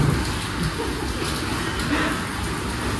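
Heavy rain pours down in South Goa, a loud, dense and steady roar of falling water that never lets up across the short stretch.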